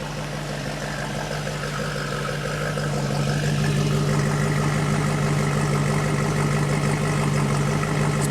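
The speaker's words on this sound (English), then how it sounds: "Let's listen to the exhaust." A 1967 Ford Mustang K-code exhaust idles with a steady, deep rumble, growing slightly louder partway through and continuing evenly without any voices.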